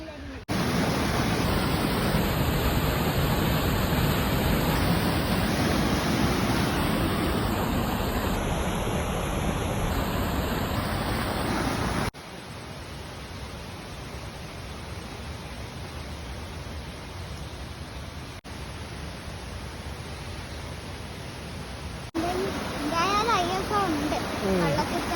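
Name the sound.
small waterfall flowing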